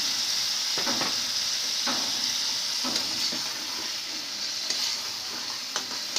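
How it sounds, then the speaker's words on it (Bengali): Chicken pieces sizzle steadily in oil and spice paste for a home chicken curry, with a spoon scraping and stirring through the pan in several distinct strokes. "এভাবে মুরগির মাংসটাকে আমরা হালকা মশলাটাকে কষিয়ে নিব।"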